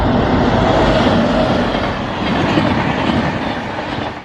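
Hubli–Ramanathapuram Special train rolling through Eggeri station, a loud, close, continuous rumble of wagons with rhythmic clickety-clack over the rails, no voices.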